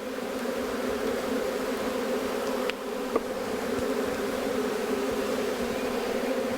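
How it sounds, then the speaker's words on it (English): Bees being shaken out of a hive make a dense, steady buzzing drone close by, with a couple of brief knocks partway through and no talking. "You may be wondering why I'm dumping all these bees out."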